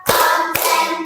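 In a counted clapping routine, a pair of crisp hand claps sounds close and distinct, the second following about half a second after the first.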